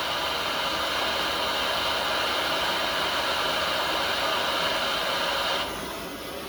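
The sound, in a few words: small torch heating backhoe throttle part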